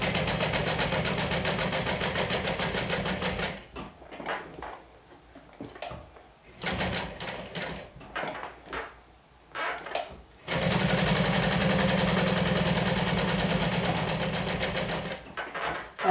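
A sewing machine stitches a strap at a 1/8 inch seam allowance, running in a steady close hum, pausing midway amid scattered handling noises, then running on again.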